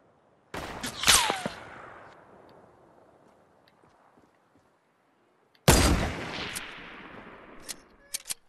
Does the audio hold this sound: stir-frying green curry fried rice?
no